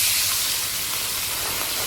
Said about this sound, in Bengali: কড়াই গরম হয়েছে, আমি মাছগুলো দিয়ে দেব।